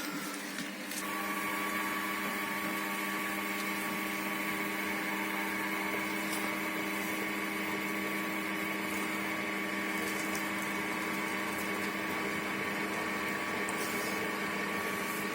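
A Mocek 25kW pellet boiler with a Titanic controller runs its fuel feeder and fan, a steady, loud mechanical hum with tonal whine, continuous and close, without speech.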